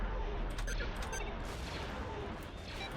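Enemy laser fire rakes the player's starfighter in the space combat game X-Wing Alliance, a dense, continuous barrage of crackling blasts and rumbling engine noise that stays loud for the whole stretch.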